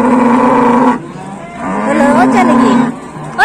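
A female cow moos loudly and close at a busy cattle market, two long low calls with a brief pause between, and only faint background noise.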